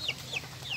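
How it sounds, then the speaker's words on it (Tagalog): A small duckling on a farm gives three thin, high, downward-sliding peeps in quick succession, close and fairly soft. "May munting bibe akong nakita."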